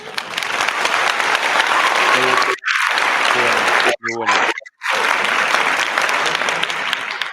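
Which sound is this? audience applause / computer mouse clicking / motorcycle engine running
audience applause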